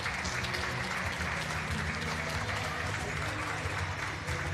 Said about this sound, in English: let's take a listen to the fans here cheering on and clapping hands